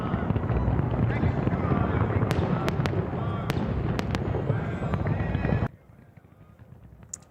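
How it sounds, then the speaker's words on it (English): Fireworks at the Tropicana casino demolition in Las Vegas crackle densely with sharp bangs, under a person talking. The sound then drops abruptly to a quieter background with a faint pop. "The legendary Tropicana went out in true Vegas style early this morning with fireworks as the opening act for the implosion."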